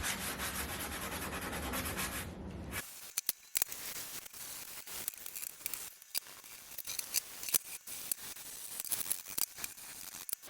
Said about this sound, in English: the only thing this handle needs is sanding and then a little bit of oil